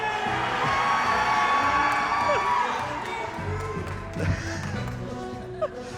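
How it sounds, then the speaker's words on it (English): Concert audience at a video game music performance cheering and whooping: loud crowd cheers and shouts at the start that gradually fade, followed by a few scattered whoops and taps. "You cheer at like every phrase."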